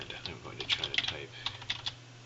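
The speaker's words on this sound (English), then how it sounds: "I'm going to try to type" Close, quiet typing on a computer keyboard while writing C++ code, a short run of irregular clicky keystrokes over a low background hum.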